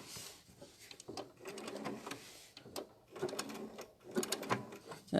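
A sewing machine stitches appliqué, turning to sew back over itself at a corner, producing short bursts of rapid mechanical whirring and clicking with brief pauses, close and fairly quiet.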